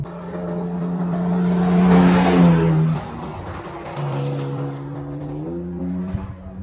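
A 2024 Ford Ranger Raptor pickup truck's engine roars past at speed, revving up and shifting, with road and tire noise swelling then easing.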